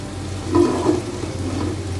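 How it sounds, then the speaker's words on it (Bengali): Hilsa fish heads and tails fry in hot oil with a steady low sizzle and bubbling throughout, swelling briefly as pieces shift in the pan. "মাথা লেজ কাংসাগুলো আমি ভেজে নিচ্ছি"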